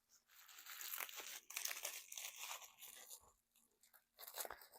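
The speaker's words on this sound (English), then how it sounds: "I'm gonna unwrap a couple things." Paper wrapping being pulled off antique items at an antique shop, with crinkling, crunching and tearing in uneven bursts close to the listener, broken by brief pauses.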